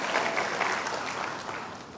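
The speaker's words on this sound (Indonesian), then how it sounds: "Boleh sambil tepuk tangan" A church congregation claps together in a dense burst of applause, fairly loud and close, fading slightly over two seconds with no voices standing out.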